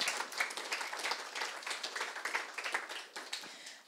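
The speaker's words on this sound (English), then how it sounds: "Please spend an applause to the Prime Minister of the Republic of North Macedonia, Zoran Zaev." An audience at a political conference claps to welcome the Prime Minister of North Macedonia, a moderately quiet burst of dense, uneven clapping lasting a few seconds with no talk over it.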